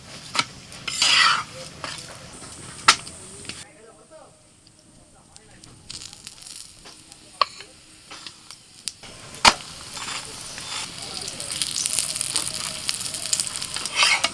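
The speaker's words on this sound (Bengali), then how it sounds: "অল্প অল্প তেল ছড়িয়ে ছড়িয়ে ভেজে নিতে হবে" Onion paratha fries in oil on a pan, giving a continuous sizzle with clinks and scrapes of a spatula turning and pressing it, a brief quieter stretch midway, and a voice talking over the cooking.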